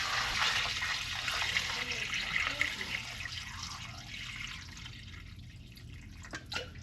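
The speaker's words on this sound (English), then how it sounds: "And now it's time to add the water to barely cover the bones." Water being poured into a roasting pan over bones to barely cover them for stock, a steady splashing pour that trails off into quieter trickling.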